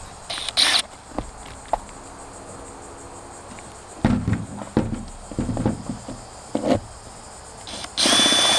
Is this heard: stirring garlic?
no